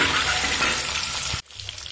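An egg crackles and sizzles in hot oil, a loud bubbling hiss that suddenly drops off and resumes more quietly near the end.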